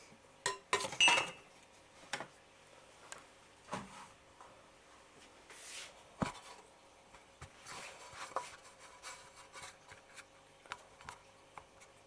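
Scattered clinks, scrapes and clatter of a ham and pineapple topped pizza being moved onto a metal pan, irregular taps and rubs close by and fairly quiet, with no voices.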